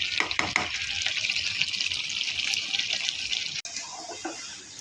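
Meat is sautéed for kosha in a pan with cumin, a loud, bright sizzle close by, with stirring strokes and wet bubbling. A brief dropout comes near the end.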